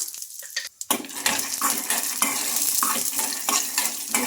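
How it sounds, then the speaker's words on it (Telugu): Peanuts frying in a kadai sizzle steadily up close, with irregular scrapes and clinks of stirring after a brief quieter start. "ఇప్పుడు ఇదే కడాయిలో పల్లీలు కూడా వేసుకుంటున్నా"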